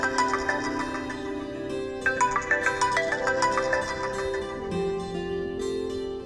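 A phone ringtone plays a bright, repeating melody of short tonal notes, moderately quiet and steady, heard alone without talking.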